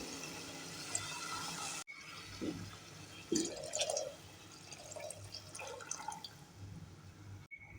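Water is poured into a cooking pot for tomato rice, a steady near stream with splashing and dripping, fairly faint, with brief clunks partway through.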